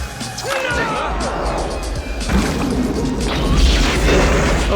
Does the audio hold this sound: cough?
no